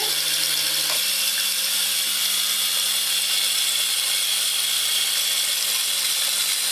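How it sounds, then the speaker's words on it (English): Steady high-pitched whirring of a hand blender running continuously while blending egg yolk, with a slight change in motor pitch near the start. "you just want to blend the egg yolk"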